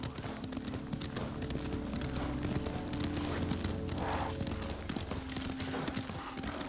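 A horse ridden in Ghost of Tsushima clip-clops in a steady, even hoofbeat rhythm, with a brief whinny and characters talking quietly in the background.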